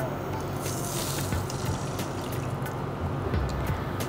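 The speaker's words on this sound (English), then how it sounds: "What we will do is we'll now add water and we'll allow this to come to a boil." Water pours into a pan of roasted rava for thavala adai, a steady close splashing and trickling that keeps going for a few seconds.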